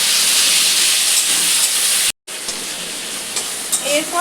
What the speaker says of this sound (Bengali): এইবার আমি এই চিংড়িগুলো আস্তে করে এই তেলের মধ্যে দিয়ে দেবো।